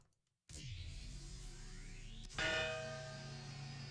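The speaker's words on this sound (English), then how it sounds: "It's still making gong sounds like it's doing something though." A machine in a modded Minecraft world sounds gong-like tones: a sustained ringing metallic drone starts abruptly, then a second louder resonant strike partway through, with lingering harmonic overtones, no speech.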